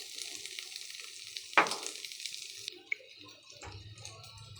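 Gobindobhog rice is stirred in a pan with turmeric, cashews and raisins for pulao, producing a faint, brief sizzle with soft stirring and a single sharp clink, with no talk.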